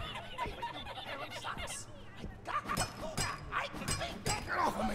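A dog barks and yips in short bursts amid game effects in the horror game My Friendly Neighborhood, with a person talking and snickering over it.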